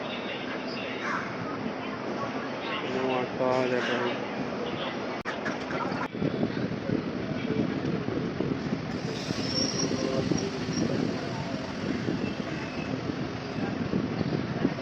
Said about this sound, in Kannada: ಟ್ರೈನ್ ಹೊರಡ್ತು